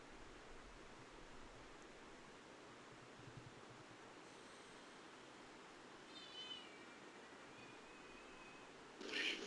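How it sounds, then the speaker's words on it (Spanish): A cat meows faintly in the distance, a couple of brief wavering calls over a quiet, hissy background. "ahora que escucho el gato"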